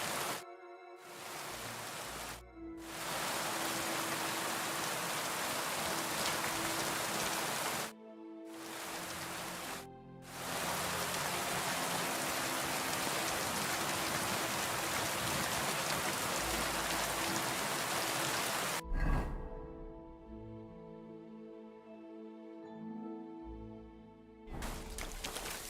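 Steady rain in the video game Kingdom Come: Deliverance 2 hisses as a dense, continuous wash of drops, broken by a few brief cutouts, with no talk.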